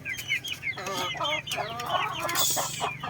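A brood hen clucks at feeding time in a backyard breeding pen. Her rapid, close, overlapping clucks and chirps run steadily for a few seconds, with other chickens faintly around her.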